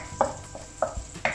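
Garlic sizzles quietly in hot oil for pancit. Four distinct scraping strokes from a stirring utensil cut through the low frying hiss, and no one speaks.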